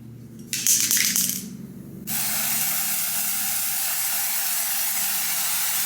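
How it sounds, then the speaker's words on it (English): A short hiss of aerosol spray bursts out near the start, then a steady, loud broadband spray hiss continues without pause to the end as a wig's lace frontal is sprayed. "I'm going to go ahead and spray the lace to get it a little closer to my skin tone."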